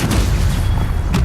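Bombarda blasting-spell explosion in the video game Hogwarts Legacy, a dense, loud, booming burst with a heavy low rumble filling the moment, close and continuous with a sharp crack near the end.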